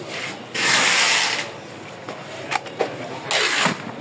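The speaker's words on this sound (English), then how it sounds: "This is angle grinder." Makita cordless angle grinder spinning up in two short bursts of loud, whirring noise, separated by quieter handling clicks and rattles, close by with no talking.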